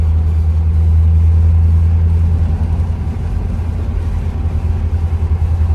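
A C4 Corvette engine cruising at 55 to 60 mph, a steady low rumble with a strong deep drone and road noise, loud and continuous with no talk.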